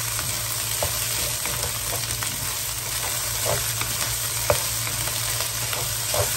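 Fried rice with pork luncheon meat and corn sizzles steadily in a pan as a wooden spatula stirs it, giving soft scraping strokes and occasional faint taps over a constant frying hiss, with no talking.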